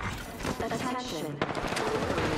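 Gunfire in a fast-paced shooter video game, dense bursts of shots and impacts filling the whole stretch at steady loudness, with game effects layered underneath and no clear talk.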